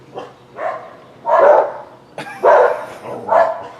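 Angry dogs bark aggressively at a pit bull being walked nearby, with five or six loud, close barks and yaps in quick bursts separated by short pauses.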